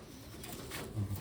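A large Taiwan-bred pigeon gives a brief, quiet, low coo, two soft pulses near the end against a faint background hiss.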